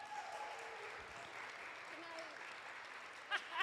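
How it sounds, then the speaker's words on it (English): An audience applauds jewelry designer Heather DeSimone at an evening event. The applause is faint and steady with a few voices over it, and louder claps come near the end. "let's give Heather a round of applause for being here tonight"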